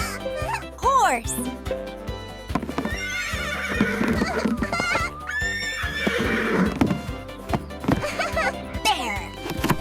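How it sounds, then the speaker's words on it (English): A horse neighs and whinnies with clip-clopping hooves, mixed over cheerful children's music with tinkling chimes and a voice, as part of an animal-sound lesson. "Horse."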